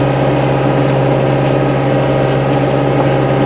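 A four-wheel-drive cab tractor runs steadily in a wet, spring-fed field, its engine a loud, constant low rumble with a droning hum that holds unchanged throughout, close by and with no voices.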